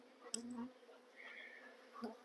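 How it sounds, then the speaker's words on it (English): Honeybees swarm and buzz around an opened hive during a brood-nest inspection of a colony with a failed queen, a faint, steady drone that swells slightly midway and carries on without a break. "because of the bees flying everywhere"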